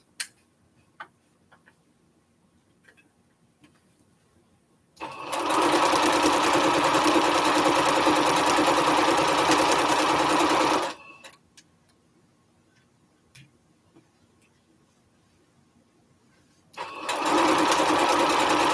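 A sewing machine runs steadily while stitching strips of a Triple Irish Chain quilt together, with two long, loud bursts of whirring separated by a quiet pause with faint clicks.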